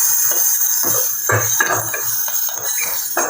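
Onions and fennel seeds sautéing in a pan for masala dosa filling. A spoon scrapes and clinks against the metal again and again over a steady background hiss, with no talk.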